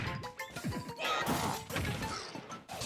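Forward smash hits in Super Smash Bros. Ultimate land with heavy, crashing impacts amid busy game effects, a quick series of loud whacks and bursts over about three seconds.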